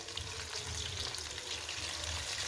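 Mutton chops frying in moderately hot oil in a pan, a dense continuous crackling sizzle with steady bubbling, close and even throughout.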